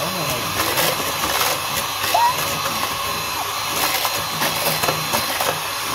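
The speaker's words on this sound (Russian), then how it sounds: "Миксер теперь. Сделай миксер. Работает Эйтанчик." An electric kitchen mixer runs with a steady, fairly loud motor whir that holds without pause, while voices talk over it now and then.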